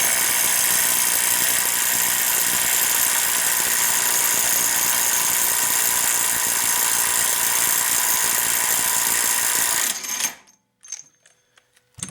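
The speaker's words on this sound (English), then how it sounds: "So now let's see if the Makita is going to remove that at the 210 foot-pound mark." A Makita XWT02 brushless 18V LXT 1/2-inch impact wrench hammers steadily at a tight nut, loud and continuous for about ten seconds before stopping abruptly, leaving near silence with a few faint clicks.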